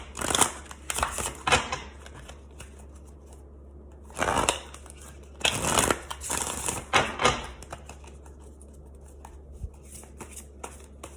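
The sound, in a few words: shuffling Tarot in Wonderland cards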